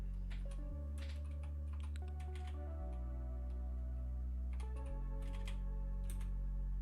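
Typing on a computer keyboard while playing Anonymous Hacker Simulator, faint scattered key clicks over a steady droning game soundtrack.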